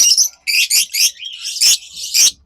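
A pair of opaline parakeets, a violet male and a pearl blue turquoise female, chirp loudly and close up. About seven quick, bright chirps come in a choppy series with short gaps between them.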